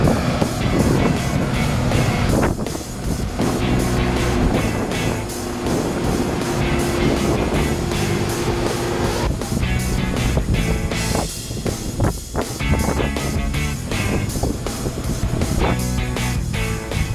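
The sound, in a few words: combine harvester harvesting rapeseed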